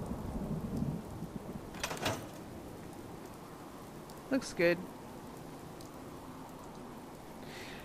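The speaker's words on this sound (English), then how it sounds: "wait out this rain and come back to this in a moment" Rain and thunder in the video game Fallout 4: steady rainfall hisses throughout, with a couple of short thunder cracks midway, and someone speaks briefly over the storm.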